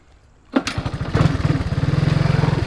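A Honda ATC 200 or Yamaha Tri Moto 175 three-wheeler ATV engine catches with a sharp start, then settles into a loud, rapid, steady putter that builds slightly, close by and alone.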